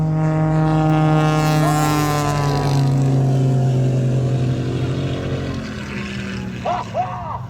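A plane roars past at a 2021 Central Coast airshow, racing a car, its steady loud engine drone with strong harmonics swelling and then slowly fading as it passes, with a faint voice near the end.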